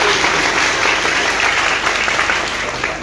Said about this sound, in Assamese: মই সকলোকে এটা হাত চাপৰি